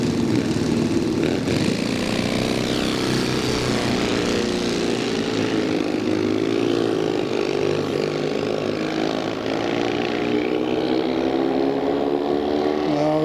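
Drag racing motorcycles run at Santa Pod, among them a Triumph with a slider clutch. A loud, continuous engine roar holds steady, with the pitch climbing gradually as the revs rise.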